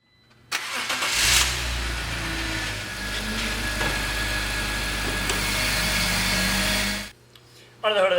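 A 2005 BMW Z4 2.5i roadster's 2.5-liter inline-six cranks and fires, then settles into a steady loud idle for several seconds before cutting off abruptly.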